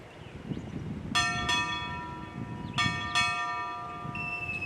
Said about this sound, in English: Tom Worley, strike 4 bells.